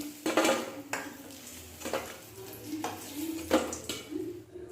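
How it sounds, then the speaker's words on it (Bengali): Fried crabs being scooped from a pan into a bowl in a village kitchen, with several separate metallic scrapes and clinks of utensil against cookware spaced across a few seconds, close and moderately loud. "এবার এগুলোকে একটি পাত্রের মধ্যে তুলে নিচ্ছি"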